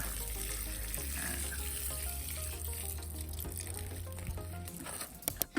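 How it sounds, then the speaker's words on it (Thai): Water pours steadily onto potted Xanthosoma plants, a continuous close trickling and splashing over a low hum, ending with a few louder knocks and splashes. "ต่อไปแล้วก็ลดน้ำเลยครับลดให้ชุ่มเลยนะครับ"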